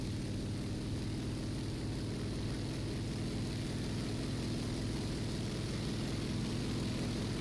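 A propeller fighter plane's engine in War Thunder drones steadily at close range, a constant throbbing roar holding the same pitch throughout, with no voices.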